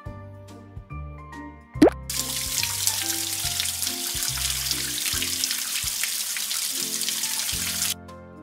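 In a PAW Patrol video game, water gushes steadily over a pup's paws for several seconds after a splashy plop, with light chiming game music playing underneath before the flow cuts off.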